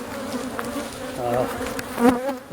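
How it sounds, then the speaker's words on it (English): Honeybees fly around an opened bee tree during a removal, their buzzing drone loud and close, with individual bees swelling past the microphone and fading as they circle. "The bees flying."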